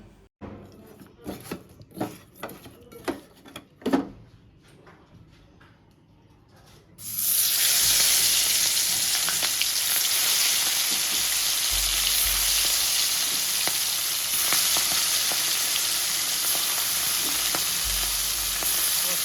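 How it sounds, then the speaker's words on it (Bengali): Ginger and chili hit hot oil in a pan, setting off a loud, steady hissing sizzle that runs on unbroken after a stretch of scattered clatter and handling noises. "আমি তো আদা ফোড়ন দিয়েছি আর তার সাথে লঙ্কা তো দিয়েই দিয়েছি"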